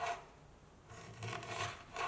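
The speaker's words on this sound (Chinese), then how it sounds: "再切一些姜片" A knife slices ginger on a cutting board, giving a few faint, close rasping strokes in a short, quiet burst, with no talking.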